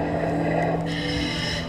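A diver at an aquarium breathes through underwater gear, producing muffled, bubbly regulator hiss and gurgling with a low steady hum, heard close and continuous.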